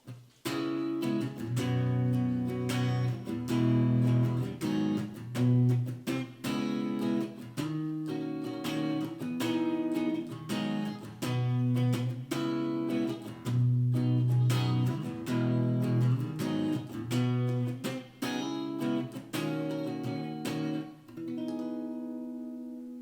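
An acoustic guitar plays a chord progression with steady rhythmic strumming of major seventh and minor seventh chords, alternating with octave figures, for a sustained solo passage ending on a ringing chord.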